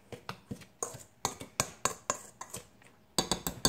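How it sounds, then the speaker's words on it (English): A whisk clinks repeatedly against the side of a bowl as coffee cake batter for a blueberry coffee cake is mixed, giving a quick, uneven run of close metallic taps with short pauses between bursts. "We're going to whisk this together so we don't lose anything."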